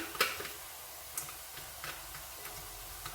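A spoon stirring an added ingredient into a pan of gammon and leek tagliatelle, faint scattered clicks and taps over a quiet low sizzle.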